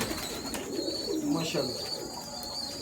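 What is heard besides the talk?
Sialkoti and Kasuri pigeons cooing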